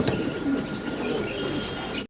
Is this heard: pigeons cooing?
yes